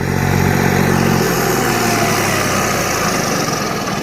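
A tractor's diesel engine chugs loudly and steadily up close while sowing maize, its low throbbing rumble running without a break the whole time.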